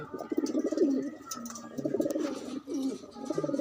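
Pigeons coo on a roof, several soft throaty calls repeating close by in an uneven rhythm, with faint background sounds between them.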